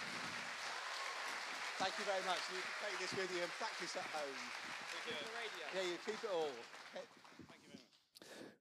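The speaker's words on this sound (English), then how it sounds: "could you give my two fantastic volunteers a round of applause?" Faint applause ripples from a lecture audience clapping for two volunteers at a talk on satellite hacking, with voices talking over it until it cuts off abruptly.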